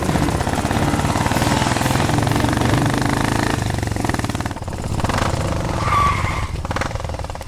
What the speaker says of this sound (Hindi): पुलिस, जल्दी जल्दी चालू कर बाइक।